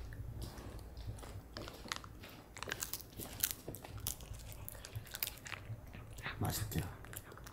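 A dog chews food in a restaurant with crunchy bites and soft squishy mouth noises in an uneven rhythm, close but faint, and a person speaks softly underneath.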